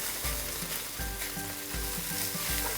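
Cold leftover rice stir-fried in a hot pan for nasi goreng: a steady close sizzle broken by regular thuds and scrapes as the rice is tossed and stirred, roughly every three-quarters of a second.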